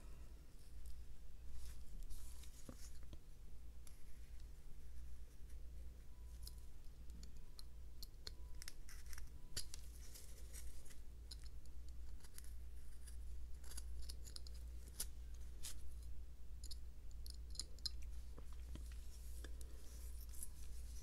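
A small knife whittles triangle cuts into a wooden wizard figure, faint close scraping and light ticking snips over a low steady hum.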